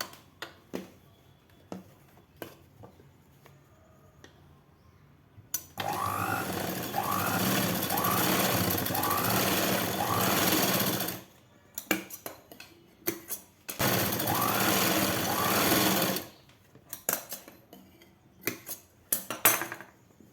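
A sewing machine stitches the back panel of a 42-inch blouse in two long continuous runs, a steady close whirring buzz, separated by quiet stretches of handling clicks and fabric shuffling.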